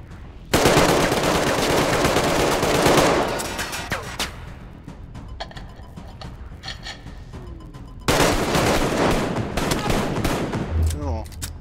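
Automatic gunfire in Arktika.1, a loud sustained burst up close, then a lull with scattered shots and clatter, then another long sustained burst.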